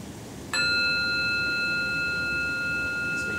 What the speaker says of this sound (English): So I'm going to hold this bell up. This is a bell of mindfulness.